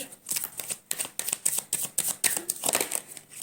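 Tarot cards are drawn and shuffled from a deck in a steady run of quick papery flicks and slaps, close to the microphone with no talking.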